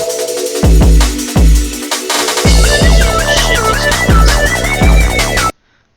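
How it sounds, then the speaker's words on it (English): Sampled drum break from an old unreleased song: punchy kicks and snares in a steady looping rhythm under synth tones, loud and upfront, ending abruptly in silence. "funny thing about this break is I actually stole it from like a really old song that I just never released"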